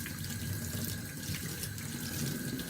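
Warm water runs from a tap into a sink while a model locomotive is washed, a steady close splashing stream with small gurgles and shifts as the model moves under the flow.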